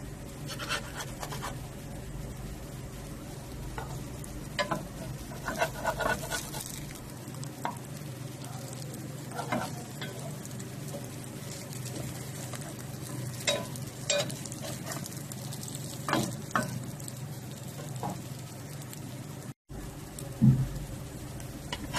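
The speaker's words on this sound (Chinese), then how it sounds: "我们开始来煎这个香椿饼。" Chinese toon (xiangchun) pancakes frying gently in oil in a pan over moderate heat, a steady soft sizzle with occasional crackles and faint scraping, close and quiet, without speech.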